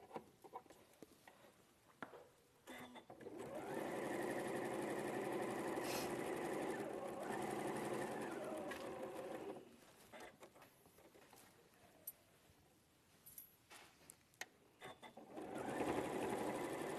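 A sewing machine stitching a patchwork seam, a steady whirring run of several seconds that begins and ends at moderate volume, with a second short run near the end and quiet clicks and handling sounds between them.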